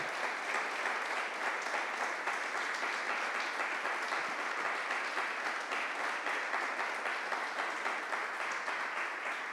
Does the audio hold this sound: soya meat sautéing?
no